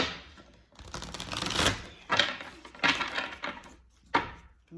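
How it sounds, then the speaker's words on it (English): Tarot cards are shuffled by hand in repeated riffling and slapping bursts. Each burst ends in a sharp knock, with short pauses between bursts, close and fairly loud, and no talking. "I'm gonna shuffle 2 more times and then we're gonna pull some cards."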